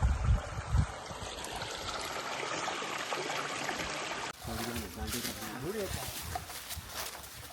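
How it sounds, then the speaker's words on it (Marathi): Water running along an irrigation channel in a Konkan village, a steady broadband rush that holds throughout, with voices talking over it and brief bumps at the start. "हा बघा पाणी गेलेला पाटाचा."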